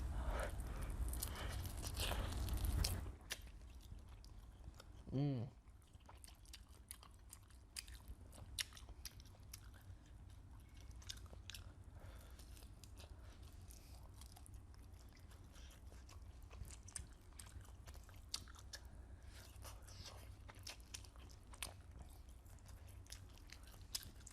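Children chewing and biting homemade buffalo wings dipped in buffalo sauce: faint, close crunches and soft mouth sounds that come and go over a quiet room, following a louder burst of handling noise at the start.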